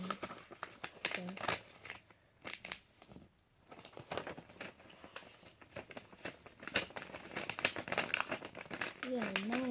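Paper being folded into an airplane, with close crinkling, creasing and rustling in irregular bursts while people talk quietly nearby.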